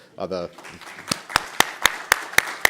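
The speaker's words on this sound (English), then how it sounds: "another round of applause is probably in order" A small round of claps at a meeting, several sharp hand claps spaced evenly and close by, following a brief stretch of speech.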